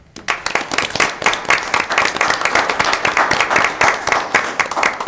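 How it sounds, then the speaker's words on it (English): Loud, lively clapping from a crowd at a city planning commission meeting, rhythmic and continuous, rising quickly and holding strong to the end. "We'd like to give you a round of applause and thanks for your help."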